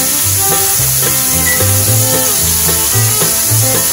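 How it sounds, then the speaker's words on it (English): Loud, continuous sizzle and crackle of scallops searing in a hot pan, with faint clinks and tonal ringing underneath. "Sizzling up real good there."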